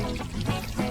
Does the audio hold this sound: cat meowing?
no